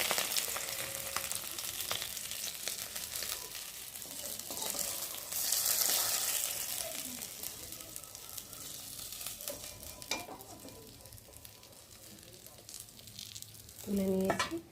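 Fish frying in hot oil in a wok, a steady crackling sizzle throughout with occasional stirring scrapes and a brief clatter near the end.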